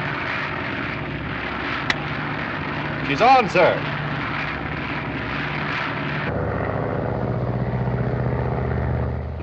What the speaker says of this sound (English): The plane is now under radio control from the board here.